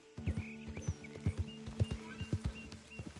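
Horse hooves clip-clop in Red Dead Redemption 2, a close, steady rhythmic trot of sharp knocks that continues throughout with no talking.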